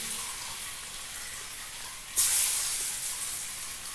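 Lentil dumplings (bora) frying in hot oil, a soft continuous sizzle and hiss that jumps to a louder, brighter spitting burst partway through, then settles back to a steady crackle.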